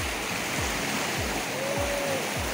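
Flooded Tinau river rushing in a broad, steady roar, loud and close, with low rhythmic thumps beneath and a faint tonal whine partway through.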